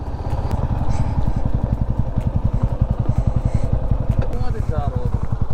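A motorcycle engine idles near the bottom of a hill cave close to a sunset point near Bhuj in Kutch, a loud, steady, rapid low putter throbbing evenly throughout.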